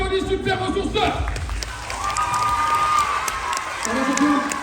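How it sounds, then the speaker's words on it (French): An audience at a children's show clapping and cheering, a lively burst with shouts at the start that gives way to voices and crowd murmur. "on applaudit Super Ressourceur"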